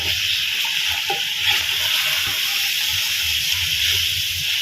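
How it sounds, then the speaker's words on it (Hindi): Minced meat frying with salt and ground spices including garam masala in a pan, a loud steady sizzling hiss with faint stirring scrapes, close and continuous without talk. "अब इसको 1 मिनट के लिए भूनेंगे मसालों के साथ"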